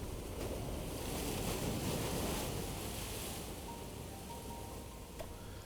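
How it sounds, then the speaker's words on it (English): Sea waves wash against a seashore in a visual novel game, a continuous soft rushing surf with a windy hiss, fairly faint and unchanging, with no voices. "It's supposed to be waves at sea, seashore."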